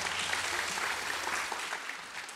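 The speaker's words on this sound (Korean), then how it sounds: "박수로 다시 한 번 하나님께 영광 돌리겠습니다" A church congregation claps at a Friday prayer meeting, a steady wash of moderately loud, fairly distant applause sustained without a break.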